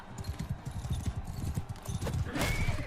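A horse galloping in the game Bannerlord: rapid, rhythmic hoofbeats pounding close and loud, with a brief whinny and other battle noise rising near the end.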